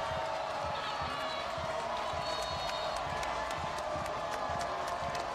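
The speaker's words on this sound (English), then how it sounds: "You hear the State College crowd and the senior crowd behind their Rams tonight." Packed stadium crowd at a State College high school football game at night, a continuous distant roar of cheering with faint claps and rhythmic thumps, steady throughout beneath light background talk.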